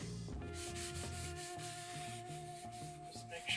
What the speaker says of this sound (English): just gonna give the rotor a quick clean up on the front side